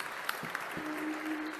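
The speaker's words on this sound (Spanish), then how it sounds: "Me encantan las cruzadas porque me aplauden antes de empezar." An audience at a monthly talk on married life applauds, a dense continuous patter of many hands clapping at moderate volume with a faint tonal hum underneath.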